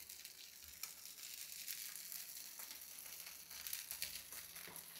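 Oil heats in a pan on a high flame for frying upma, producing a faint, continuous hiss with small crackles throughout.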